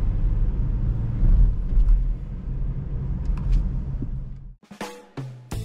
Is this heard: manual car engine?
yes